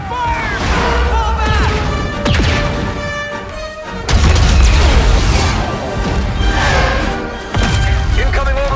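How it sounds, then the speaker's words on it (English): Orbital strike explosions in Star Wars Battlefront on Hoth, a run of loud heavy booms and crashes rolling one after another, close and thunderous, with battle chatter and effects layered over them. "Incoming orbital strike!"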